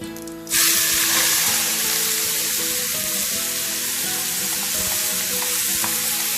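Onions hit hot oil in a pan for curried chickpeas and erupt into a loud, steady, close sizzle that holds evenly throughout, with light stirring underneath.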